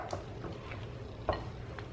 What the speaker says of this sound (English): now I am just going to kind of fold the chocolate chips in